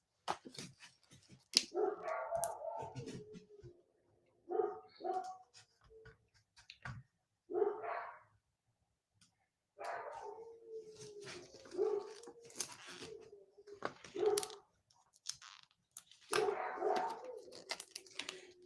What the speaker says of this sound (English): And there go the dogs in my neighborhood once again.